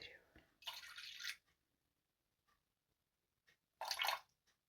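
Water is poured in two short splashing bursts, about 100 ml measured out for cooking, with quiet pauses between the pours.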